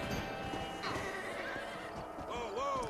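Horse neighing in the Western video game Red Dead Redemption, with a runaway stallion among the herd: high wavering whinnies over a steady background of hoofbeats and game ambience, with a second, louder neigh near the end.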